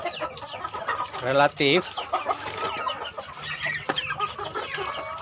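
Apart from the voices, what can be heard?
chickens clucking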